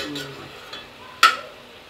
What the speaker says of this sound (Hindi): बीच बीच में इसको मिक्स करते रहना चलाते रहना है